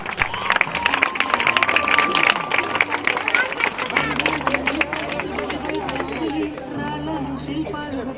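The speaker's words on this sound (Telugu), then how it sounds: "నీలకంఠ గారు చప్పట్లు కొట్టాలి సత్కరిస్తున్నప్పుడు" Crowd clapping steadily at a school award felicitation for a best-teacher honoree, a dense roomful of hands with chatter and voices over it.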